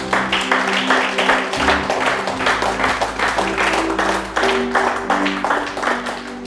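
A church congregation applauds and cheers the Lord, sustained rhythmic clapping from a crowd with mixed voices, loud and continuous throughout.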